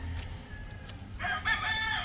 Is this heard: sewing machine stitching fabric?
no